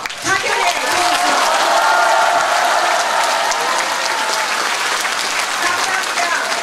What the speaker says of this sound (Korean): 힘찬 박수로 가결해 주십시오.